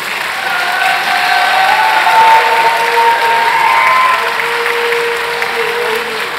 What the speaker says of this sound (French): Un peu d'applaudissements pour John.